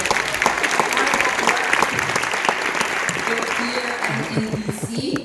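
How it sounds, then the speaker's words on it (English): Applause from the audience at a community event on Black mental health, steady clapping filling the room, with a voice starting to speak over it toward the end. "My team, if you guys can give them a round of applause"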